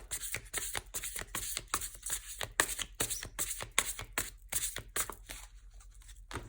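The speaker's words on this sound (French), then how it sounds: "on va continuer avec les flammes jumelles, hein, les cartes des flammes jumelles tout simplement" Large twin flame oracle cards are shuffled by hand, producing a quick run of crisp, riffling flutters and slaps, close and fairly quiet.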